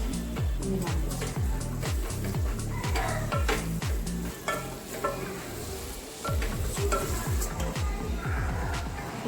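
Chicken seasoned with salt and black pepper is stirred in a frying pan, a steady sizzle under a quick, regular rhythm of spatula scrapes and clacks against the pan, close and continuous.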